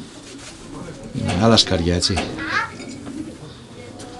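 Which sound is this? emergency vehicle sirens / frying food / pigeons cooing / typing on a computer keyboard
pigeons cooing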